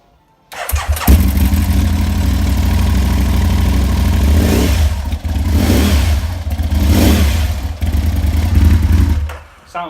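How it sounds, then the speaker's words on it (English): A 2007 Aprilia Tuono Factory motorcycle with an Akrapovic carbon exhaust fires up and revs hard several times, loud and close, with a deep raspy exhaust note between blips. "Got the Akrapovic carbon exhaust on there, which sound fantastic. Bit of quick fire for you."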